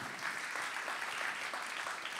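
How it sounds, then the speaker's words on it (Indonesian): An audience at a talk and discussion event claps continuously, a dense, even wash of applause from many hands that runs the whole time without pause. "Aplaus untuk kita semua."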